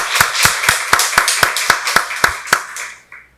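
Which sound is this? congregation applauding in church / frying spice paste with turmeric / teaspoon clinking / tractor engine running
congregation applauding in church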